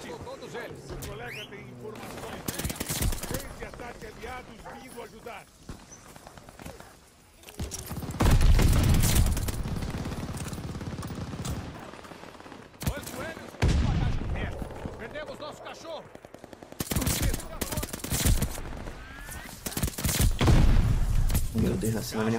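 Bursts of MP40 submachine gun fire in the Call of Duty Vanguard video game, several loud rapid volleys separated by short pauses amid other battlefield shots and booms.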